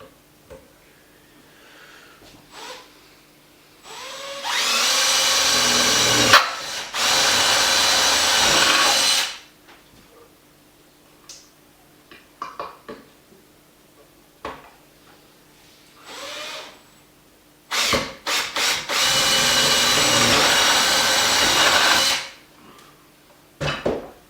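Power drill boring two new holes through an electric skateboard deck, two loud sustained whirring bursts separated by a pause filled with small handling knocks and clicks.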